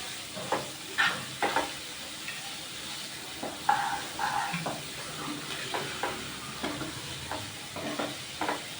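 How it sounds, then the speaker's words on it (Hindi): A large onion frying in a pan for Sindhi dal fry, a soft steady sizzle with repeated stirring scrapes of a spoon against the pan, fairly quiet and close, no talk. "फिर इसमें कांदा डालने का, एक बड़ा कांदा, देख सकते हो।"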